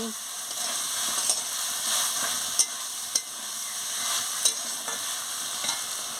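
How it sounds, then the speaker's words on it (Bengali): Ridge gourd with turmeric powder being stirred and fried in a pan: a steady broad sizzle runs throughout, punctuated by several sharp spoon-against-pan clicks and scrapes at irregular intervals, close and fairly quiet, with no talking. "এবার আমি হলুদের গুঁড়ো দিয়ে দিচ্ছি দিয়ে ভালো করে নাড়াচ্ছি"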